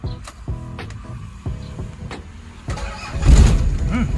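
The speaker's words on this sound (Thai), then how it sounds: "เดี๋ยวลองสตาร์ทฟังเสียงสักหน่อยนะครับ" An old Toyota LN40 diesel pickup engine cranks with several short starter whirs, then catches and rumbles into a rough idle, close by.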